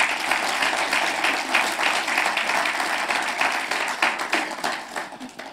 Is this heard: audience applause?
yes